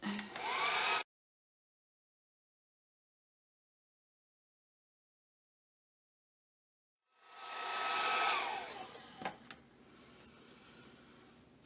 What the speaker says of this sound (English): Well, I'm going to dry it.